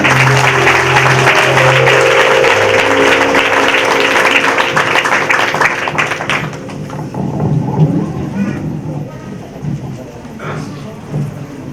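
A congregation applauds during a Christmas Eve candlelight church service: dense, loud clapping for about six seconds over sustained musical tones, then thinning into scattered claps and quieter room noise.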